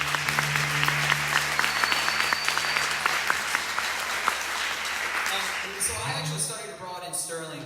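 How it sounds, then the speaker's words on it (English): A crowd at a gathering in Newtonmore gives a round of applause, sustained and even, with a low hum underneath, until speech cuts in near the end. "So big round of applause."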